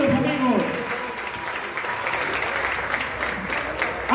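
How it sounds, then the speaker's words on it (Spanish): Sustained applause from an audience at a municipal swearing-in ceremony for a Movimiento Ciudadano committee, steady and fairly loud throughout, with a voice speaking over the start. "ese fuerte aplauso"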